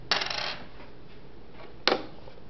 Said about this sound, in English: Any coins that are put into the slot drop to the coin return.